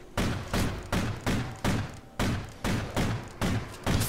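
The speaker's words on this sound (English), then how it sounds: "I got some akimbo guns." Akimbo guns fire in Call of Duty: Ghosts as a run of about ten punchy, evenly spaced shots, each with a short decaying tail. The shots are close and loud, with no talk.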